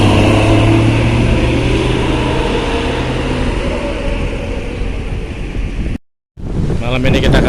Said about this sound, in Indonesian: Anginnya kencang banget nih, gelombangnya tinggi nih.